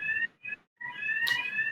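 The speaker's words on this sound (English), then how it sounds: "as you probably heard, Sam, that's our fire alarm going off as a practice" A loud electronic fire alarm sounds during a practice drill in two short bursts, then a sustained shrill tone, ringing out close and harsh.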